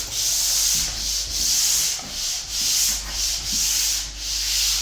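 Hand sanding the edge of a flat drywall joint, a continuous close scraping rasp that swells and fades in regular back-and-forth swipes, loud and alone with no voices.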